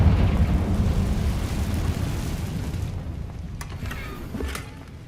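A Confringo fire spell from Hogwarts Legacy erupts in a loud, rumbling blast that fills the first few seconds, then settles into a fading roar with a couple of sharp crackles near the end.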